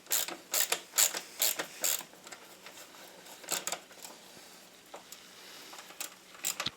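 A ratcheting ring spanner tightens a hex screw on the auxiliary electric water pump of a Porsche 944 Turbo, giving close, sharp bursts of clicking followed by quieter pauses and a few isolated clicks.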